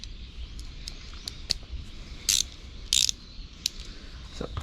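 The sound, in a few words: ratchet loosening 8 mm bolts on Suzuki SV650 motorcycle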